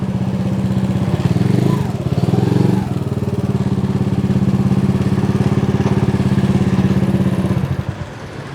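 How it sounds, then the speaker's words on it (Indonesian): A Honda CB100 motorcycle engine runs steadily while being ridden on a rough road, a loud, close mid-pitched drone with a fast, even pulse that swells briefly before dropping away near the end. "tapi menyenangkan ketika kita riding pakai motor CB100"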